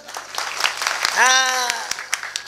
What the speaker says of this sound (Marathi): अहो जोरात टाळी वाजवा